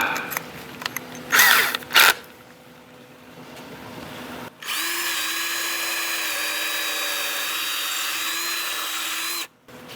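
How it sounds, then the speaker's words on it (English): Power drill boring a pilot hole in an old wooden gate. A high, steady whining motor runs loud and close for about five seconds after some brief clattering handling noises, then cuts off. "Okay, pilot hole is pre-drilled,"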